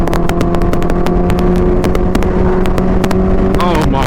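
Supercharged stage 3 Kawasaki Ninja H2 motorcycle at speed, a loud continuous engine howl with rapid crackling pops throughout and a rising pitch toward the end, heard up close.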